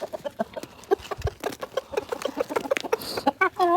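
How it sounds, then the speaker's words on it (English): A rooster gives a run of quick, throaty clucking calls, close and fairly loud, ending in a longer rising call, while hens scratch and shuffle nearby. "See how the rooster makes that sound?"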